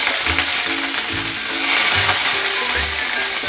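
Cumin seeds, mustard seeds and green chilli fry in hot oil, giving a loud, dense, crackling sizzle that runs steadily throughout, with low rhythmic scraping of a spoon underneath and no voices.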